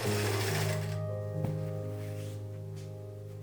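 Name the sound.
sewing machine sewing a wide gathering stitch on a hood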